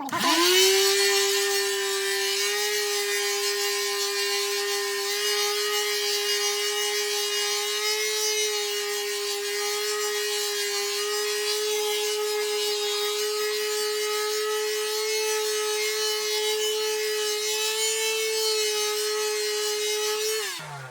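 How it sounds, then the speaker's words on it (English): A continuous buzzing whir of a palm sander with 220-grit paper running against wood, steady and close throughout with no pauses. "I'm just going to use a palm sander."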